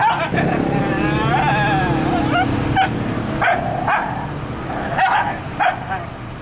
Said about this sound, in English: I'm hoping this dog ain't biting my ankles right now.